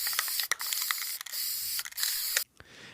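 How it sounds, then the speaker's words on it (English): Glow-in-the-dark paint sprayed from an aerosol can onto the face of a customized plush bunny: close, bright hissing bursts of spray in several short pulses, then a fall to near quiet. "I'm going to spray his face with this glow-in-the-dark paint."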